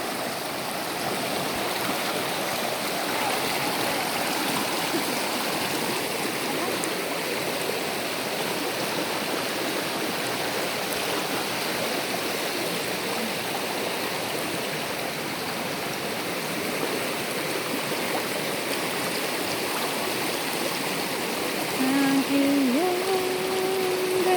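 A river stream rushes continuously and loudly nearby, a steady broad roar of flowing water throughout.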